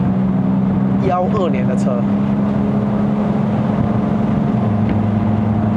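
A 2012 MK3 Ford Focus 2.0L Sport+ with a dual-clutch gearbox pulls away, its steady low engine drone running throughout as someone talks over it early on.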